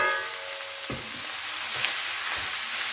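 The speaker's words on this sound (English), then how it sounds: "Oh, it's sizzling so lovely." Beef mince fries in a dry pan with no oil, giving a steady, soft sizzle and crackle and a few quick scraping stirs, near but quiet.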